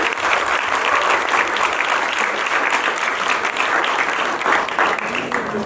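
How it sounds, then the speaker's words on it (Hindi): Sustained, dense clapping from a large crowd, loud and steady throughout with no talking over it. "जोरदार तालियां इनके लिए"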